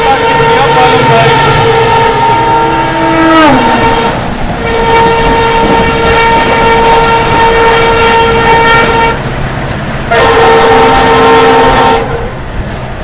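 Rajasthan Sampark Kranti Express sounding a loud, long two-tone horn as it passes Palam station, sustained blasts with a brief gap and a second burst, over rumbling rail noise.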